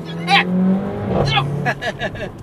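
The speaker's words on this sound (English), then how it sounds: "You feel the lag below 3000 RPMs, but when the turbo kicks in" A Mercedes A45 AMG hatchback with a 360 hp turbocharged engine accelerates as the turbo boost kicks in, loud and close, with rising engine noise broken by several sharp bursts.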